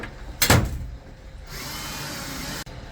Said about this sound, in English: I'm drilling these nuts to put power pins in so the nuts can't come loose.